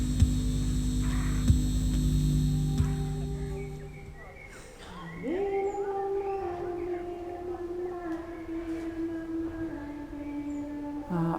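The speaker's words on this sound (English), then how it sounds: "there's more electrical sounds which have been partly recorded from international transformer power stations" Electrical hum recorded at international transformer power stations is played in a public-space sonic art installation. A dense low drone gives way to a rising, wavering tonal whine that holds steady and layered, sounding howl-like.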